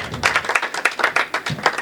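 An audience at a Hindi poetry recital applauds, giving a brief, dense burst of many hands clapping at close range without any voices.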